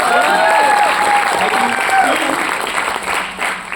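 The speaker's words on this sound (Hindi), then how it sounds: "हम सभी नेटवर्कर्स के लिए भी एक जोरदार ताली होनी चाहिए" Crowd applause at a direct selling leadership award ceremony in Raipur, a dense continuous patter of many hands that stays loud throughout, with some voices mixed in.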